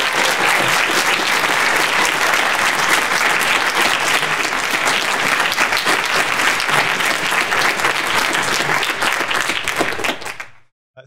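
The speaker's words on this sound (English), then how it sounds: "Let's give them a round of applause." A large audience at a halls theater arts competition awards ceremony gives a loud, sustained round of applause for a third-place result, holding steady for about ten seconds before quickly dying away.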